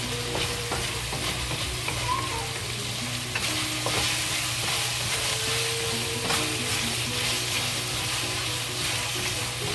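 Bok choy and mushrooms fry in a pan with a steady, close sizzle that runs throughout, broken by occasional scraping stirs.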